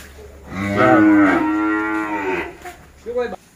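Cattle on a farm in Tra Vinh, part of a lot of over thirty bulls, give one long, loud, close moo lasting about two seconds, then a shorter low call follows.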